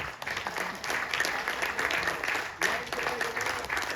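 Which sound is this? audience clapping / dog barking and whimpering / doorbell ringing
audience clapping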